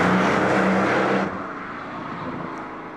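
The 670 hp engine of a Mercedes SL65 AMG Black Series roars loudly and steadily at full throttle, then drops to a lower, softer drone as the car pulls away.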